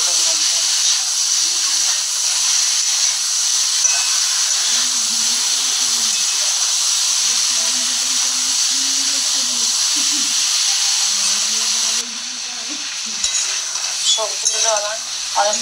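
Chopped vegetables and tomato for a cauliflower and fish curry sizzle steadily in a pan, a loud continuous hiss with occasional stirring scrapes. A voice talks quietly underneath, and the frying eases slightly near the end.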